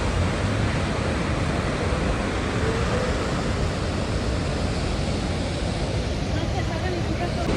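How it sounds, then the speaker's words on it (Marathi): Snoqualmie Falls thunders nearby as a constant, loud rushing roar of falling water and blowing spray, with no break across the whole stretch. "या धबधब्याचं सगळं असं पाणी येतंय अंगावरती आत्ता एकदम"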